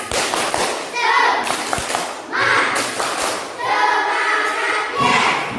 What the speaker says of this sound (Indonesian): Biar lebih semangat lagi, coba kita tepuk semangat dulu.